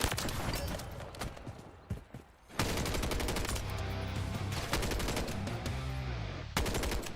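Rapid automatic gunfire in Call of Duty MW3 multiplayer, long dense bursts broken by a short pause, loud and close, continuous over several seconds.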